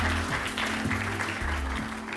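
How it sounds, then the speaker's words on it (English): An audience at a tech conference startup competition claps briefly, a light patter over a steady, music-like backdrop. "That's right, clap, a little clap."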